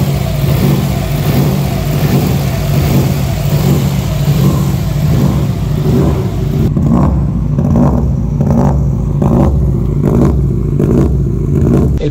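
A Subaru rally car fitted with a new turbo runs at full throttle, a loud, continuous engine roar that gives way to rhythmic surging pulses partway through, with no talking.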